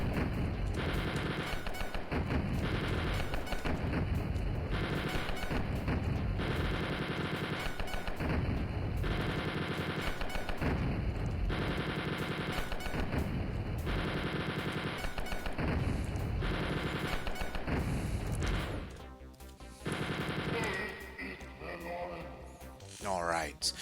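Video game gunfire in the level Before the Dawn, rapid repeated automatic bursts in a steady driving rhythm, loud and continuous, then breaking up near the end.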